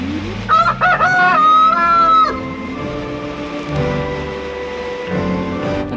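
Chickens clucking alongside a rooster's loud, close crow near the start, followed by softer, scattered clucks and fowl calls.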